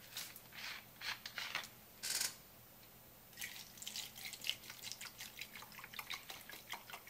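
Salt water pours and trickles into a tub, heard as faint, close splashing bursts and drips with brief pauses between them.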